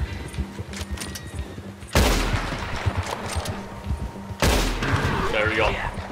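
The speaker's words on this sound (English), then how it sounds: "They're shooting the horse." Gunfire from the Western video game Red Dead Redemption 2 during an attack on a criminal village, with two loud blasts a few seconds apart, each trailing into crackling noise, over quieter background game sound.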